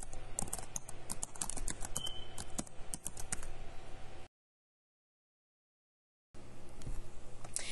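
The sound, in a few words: typing a message on a computer keyboard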